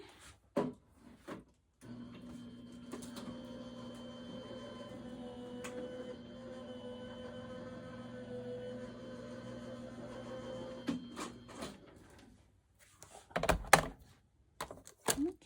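A die-cutting machine presses a cutting plate through for a card, giving a low steady mechanical hum for about nine seconds, framed by handling thumps and clatter of plates at either end.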